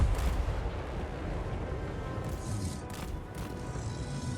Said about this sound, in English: Those shotguns working.